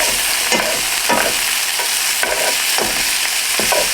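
Tomatoes with garlic are stirred in a hot pan, a steady sizzle with rhythmic scraping strokes about every half second, close and loud with no talk.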